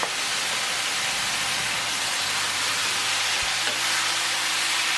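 Beef, mung bean sprouts and spring onions stir-frying in a hot pan over a fire, a steady loud sizzle with faint scraping of stirring throughout, no talking.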